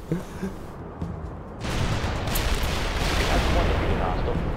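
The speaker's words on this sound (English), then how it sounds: "Rocket's going quite far." Rocket fire in the video game World in Conflict, a few muffled booms under a speaking voice, then a loud, sustained roaring barrage of blasts and rumbling explosions that swells and holds.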